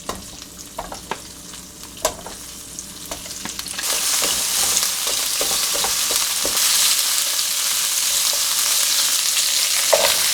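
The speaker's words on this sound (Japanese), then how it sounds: "サラダ玉ねぎ炒めるとさらに甘みが増すんだよね" Sliced salad onions stir-frying in a pan, starting with scattered light clicks and stirring, then rising to a loud, steady sizzle close by, with no talking.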